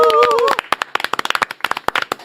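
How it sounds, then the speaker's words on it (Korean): A voice speaks briefly at the start, then a small studio group on a Korean talk show breaks into lively clapping, sharp irregular claps close by that continue to the end. "박수로 맞이하겠습니다."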